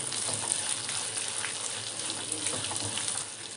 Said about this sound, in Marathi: हळद आपल्याला पूर्ण मिक्स करून घ्यायची आहे.